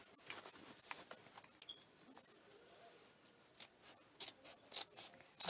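Sharp scissors snip through heavy denim in a run of crisp, close cuts, faint at first and then quicker and louder toward the end.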